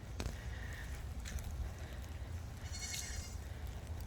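Goats on a small farm bleating, a few faint, brief calls spread over a steady outdoor background, somewhat distant and without talk.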